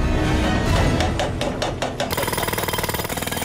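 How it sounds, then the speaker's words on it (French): Large jackhammers break up airport taxiway concrete, loud and close, with a series of heavy pounding blows giving way to rapid, steady hammering near the end. "Quatre énormes marteaux-piqueurs se mettent alors à casser une partie des taxiways"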